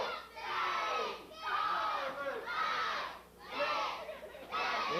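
Wrestling arena crowd chanting the referee's count in loud, rhythmic unison shouts, each call rising and falling in roughly one-second waves from a large audience.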